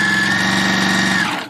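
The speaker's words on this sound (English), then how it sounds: "Yeah, you got on full speed now" A sewing machine runs flat out at full speed, a loud close buzzing whir with a rapid steady rhythm that winds down at the very end.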